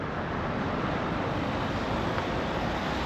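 A river flowing through Galway produces a steady, even rushing wash of water, constant throughout with wind noise mixed in and no voices.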